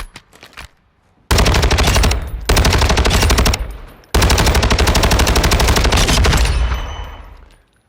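Long-range weapon build in a first-person shooter game firing in three long automatic bursts, rapid and loud with short pauses between them, the last burst trailing off.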